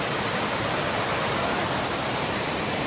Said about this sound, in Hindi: ये झरना है, बरुआ सागर का झरना है।